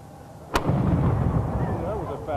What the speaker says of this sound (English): We're going to go ahead and start the race with lighting the cannon.